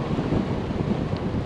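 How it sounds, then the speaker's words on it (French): Strong headwind buffets the microphone of a bicycle rider along a canal near Lac Kir, a loud, continuous low roar with rhythmic gusting pulses and no speech. "je l'ai pratiquement dans le nez, le vent là"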